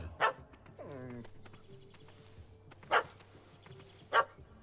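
A dog in The Witcher 3 video game barks three times with sharp, loud yaps, spaced apart, and a short whine in between over a low ambient game hum.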